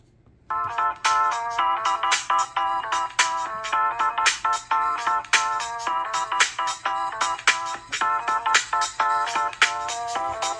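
Music played at full volume through the built-in speakers of a 9th-generation iPad, a bright melodic tune with plucked, bell-like notes that sounds thin and a little distant.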